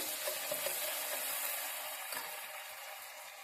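Green chili paste fries in a little oil for a North Karnataka-style rosy dock sambar, giving a soft, steady, close sizzle that fades slightly toward the end, with no talk.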